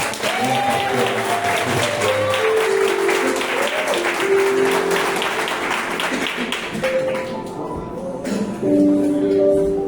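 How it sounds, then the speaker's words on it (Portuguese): Church congregation applauding during a worship service, a long dense wash of clapping and crowd noise with voices and sustained tones mixed in, steady and loud throughout. "Vamos aplaudir a Jesus."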